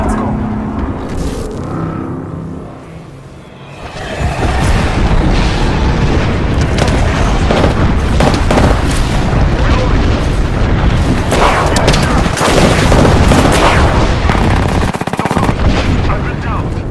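Heavy airstrike explosions in Apex Legends pound repeatedly alongside bursts of gunfire, loud and dense after a quieter start, with a player's voice talking over the barrage.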